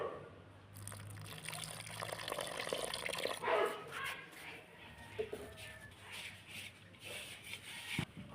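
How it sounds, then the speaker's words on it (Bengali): Water trickles and splashes as it is poured into a rice-flour batter for leaf-wrapped patishapta, a soft, continuous pouring sound with small drips and a few clinks of utensils. "এবার জল দিয়ে দিই।"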